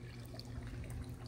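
A garden water feature in a backyard patio trickles softly, a faint, continuous splash of falling water over a low steady hum, with no one speaking.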